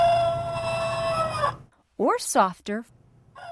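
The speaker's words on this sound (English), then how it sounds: "The clock features a rooster inside who crows on every hour." A battery-powered cuckoo clock's mechanical rooster crow rings out as a steady, bright tone that trails off after about a second and a half, followed by a person speaking briefly.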